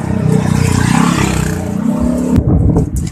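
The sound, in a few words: motorcycles passing on the street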